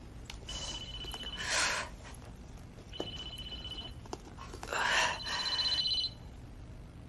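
A telephone rings indoors, its electronic bell sounding in repeated bursts with brief gaps between them, clear over a low domestic background.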